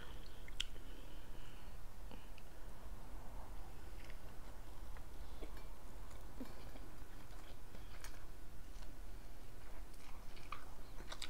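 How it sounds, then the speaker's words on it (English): Close, wet chewing and soft squishing of sushi and a poke bowl during a mukbang, repeated irregular bites and mouth clicks over a steady low room hum, no talking. "I gotta chew that up"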